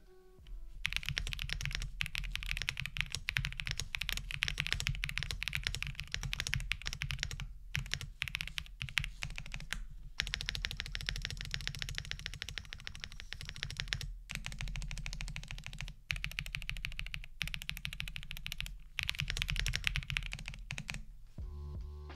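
Steady, rapid typing on a mechanical keyboard with linear switches, soft, muted clacks and brief pauses, heard up close with no talking.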